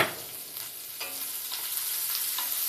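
Chopped onions sautéing in a pan with cumin seeds for aloo kachori filling, giving a steady soft sizzle with a few light stirring scrapes, close and alone.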